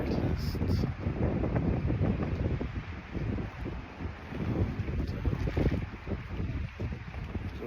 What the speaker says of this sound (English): It will be snowing and blowing all night